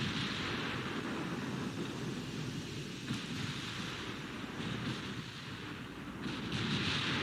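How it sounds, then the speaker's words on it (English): A 15-inch naval gun salvo in the Ultimate Admiral: Dreadnoughts video game, heavy rumbling booms over a continuous roaring battle din, loud and sustained with swells of blast noise. "There's a nice salvo going out again."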